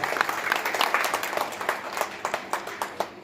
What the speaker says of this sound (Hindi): एक बार जोरदार ताली बजाकर के विधायक जी का